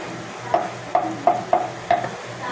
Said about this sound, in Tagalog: pag nagluto kayo ng spaghetti, fry nyo ng konti sa butter para masarap